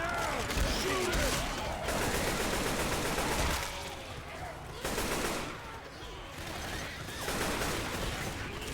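Rapid, dense gunfire in the zombie shooter game Left 4 Dead 2, with bursts of automatic shots in loud clustered volleys and brief pauses between them, plus faint voices in the background.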